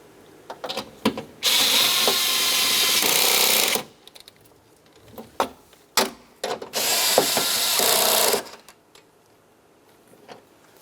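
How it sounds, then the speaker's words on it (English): A ratchet snugs two 10mm-headed bolts on a front power window regulator inside the door of a 2007-2012 Nissan Versa, two sustained bursts of rapid clicking separated by quieter handling and clunks. "Continue on with your two 10mm headed bolts. Start them in, snug them up."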